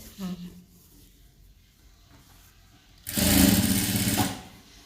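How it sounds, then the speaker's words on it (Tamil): After a brief spoken remark, a sewing machine stitching a government school uniform coat starts up in one loud, close burst of rapid whirring that lasts about a second and a half before stopping. "இந்த இடத்துல வந்து தையல் போடணும்."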